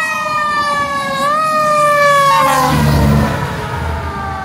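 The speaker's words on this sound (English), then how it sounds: "Ambulance." A siren wails loudly from a passing emergency vehicle on a street, its steady high tone dipping in pitch as it goes by, with a low engine rumble swelling underneath.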